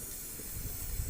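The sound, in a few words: gas stove being lit, hissing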